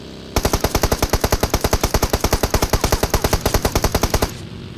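Teammate firing an automatic weapon in a mobile battle royale game: a loud, close, rapid burst of around forty evenly spaced shots lasting about four seconds, with no talk over it.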